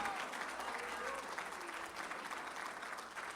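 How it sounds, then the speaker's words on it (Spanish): A congregation claps together at a Spanish-language church conference, a steady wash of applause with a voice faintly audible over it. "A ver, aplaude fuerte al Señor."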